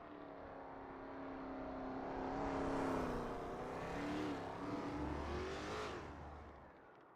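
A Lola T70 MkII Spyder race car at Spa, its engine note climbing and falling through gear changes as it rises to a peak and recedes, loud and alone.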